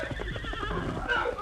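Horse neighing in a radio drama scene where a heavy wagon is stuck fast in deep mud as the driver shouts at the horses; a loud, close whinny runs throughout, with hoof clatter and faint background voices.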